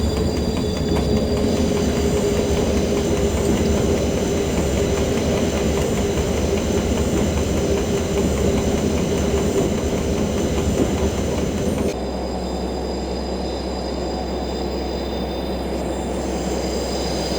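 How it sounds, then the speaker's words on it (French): A train crosses the entry switches arriving at Veynes station on the Alps line from Grenoble, a loud continuous rumble with squealing wheels, dropping to a quieter, steadier roll near the end. "nous franchissons les premières aiguilles d'arrivée"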